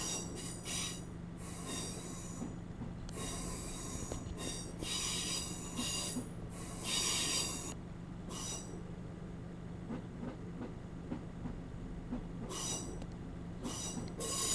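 A Class 150/1 diesel train in Train Simulator runs along the rails with a steady low rumble and repeated bursts of high wheel squeal, moderately loud and continuous.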